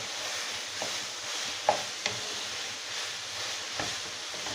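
Minced meat with garlic and ginger fries on a high flame, a soft steady sizzle with a few light stirring knocks and scrapes, fairly quiet and close.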